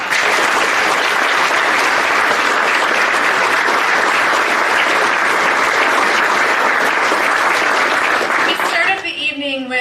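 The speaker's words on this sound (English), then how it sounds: "Let's give them another round of applause." Loud, dense applause from the audience at a college athletic hall of fame ceremony, sustained clapping for nearly ten seconds before a voice begins speaking as it fades.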